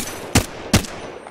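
Two sharp, loud gunshots about 0.4 seconds apart ring out during a video game battle royale match, each with a brief tail, over a quiet background.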